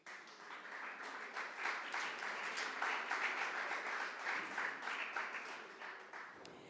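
An audience claps steadily for graduating students at a primary school graduation ceremony, with dense, even applause that holds at moderate loudness for several seconds before tapering slightly at the end.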